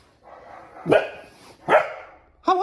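A dog barks in short sharp bursts, three loud barks spaced apart, close by, with a quieter yip at the start.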